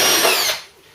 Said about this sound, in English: Straight through these now with that drill bit.